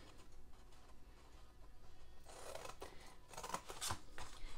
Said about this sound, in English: or you can just use your scissors